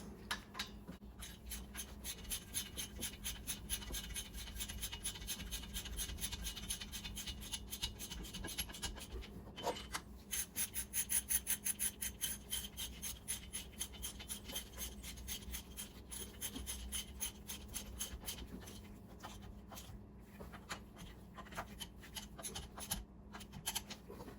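Nuts are run down quickly onto the exhaust manifold studs of a MerCruiser marine engine, giving a faint, rapid ratcheting or rasping sound that repeats steadily at close range.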